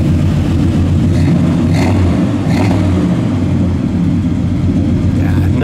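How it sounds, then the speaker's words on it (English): A 1971 Oldsmobile Cutlass convertible's small-block four-barrel V8 rumbles loudly and steadily at close range with a deep, throaty tone, swelling slightly in brief revs. "You want to rev it up a little"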